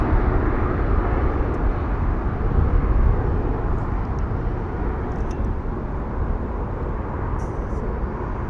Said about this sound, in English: A380 bound to Dubai. Look at that. What a big jet, what a beast.